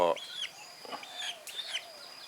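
Native Thai chickens, both chicks and grown birds, cluck and chirp in short, scattered calls, fairly close but not loud, with a faint high whine running underneath.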